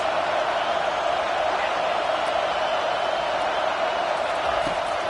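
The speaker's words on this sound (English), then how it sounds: "This crowd trying to make life miserable for this offense." Steady stadium crowd roar at a Notre Dame vs Alabama college football game, a continuous loud wash of distant voices with no break.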